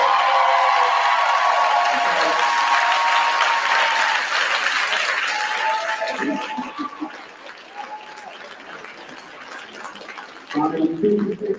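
Audience applause filling a hall at a Harlem vaccine debate, a dense, loud wash of clapping that slowly thins and fades, with a few voices and cheers mixed in and louder talk cutting in near the end.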